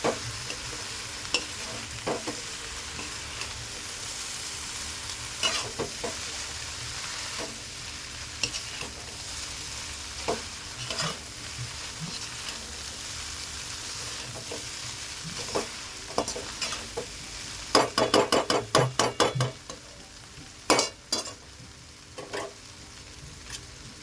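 Chowmein noodles fry in a pan with a constant close sizzle, punctuated by scattered spatula taps and a brief burst of rapid scraping and clattering near the end.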